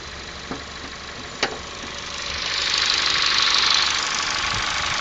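A 2011 Ford Fiesta's 1.6 engine runs steadily at idle, a continuous mid-pitched hum that swells slightly partway through, with a couple of sharp clicks early on.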